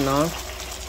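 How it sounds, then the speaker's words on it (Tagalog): Boiled water is poured into a cooking pot of tomato and shrimp stew, giving a brief watery gush that follows a short burst of talking. "maglagay na tayo ng pinakuloan tubig natin"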